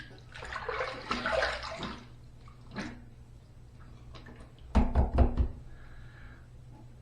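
A Gillette Tech Fat Handle safety razor with a Big Ben blade is rinsed under running water. A burst of splashing water comes first, then a quieter gap, then a quick cluster of sharp knocks and taps near the end.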